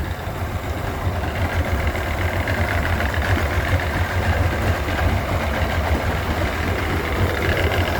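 A Mercury 175hp EFI V6 oil-injected two-stroke outboard engine runs at a steady idle, a loud, close, continuous rumble with a buzzy vibration and no voices.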